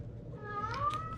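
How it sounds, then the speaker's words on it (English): A house cat meows for food, drawing out a rising, wavering cry that grows louder and clearer toward the end, heard close up with no talking. "my cats think they're starving."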